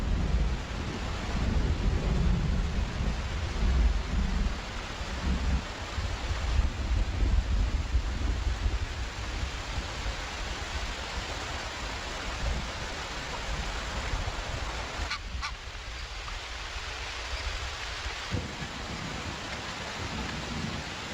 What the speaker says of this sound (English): March brings the long rains.